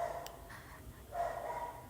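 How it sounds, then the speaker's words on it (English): Several dogs bark and yip in the background, a few short bursts near the start and a longer stretch of barking later, moderately faint behind a steady low hum. "Sorry about the dogs."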